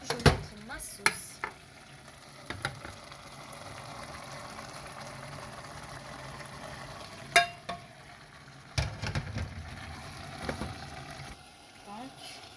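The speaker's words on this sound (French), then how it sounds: "Maintenant, je vais mettre ma sauce." Sauce going into a cooking pot of mbika (ground pumpkin seed) dish with smoked chicken, stirred with soft intermittent scrapes and light clinks, quiet and close, with a few sharper knocks near the middle and end.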